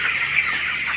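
Young chickens and chicks in a coop make soft, continuous clucking and peeping chatter, fairly close, with no talk.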